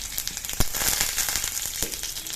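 Curry leaves and asafoetida sizzle steadily in hot oil for a Tamil kozhukattai tempering with mustard seeds and urad dal, a bright continuous crackle with one sharp pop, close and alone.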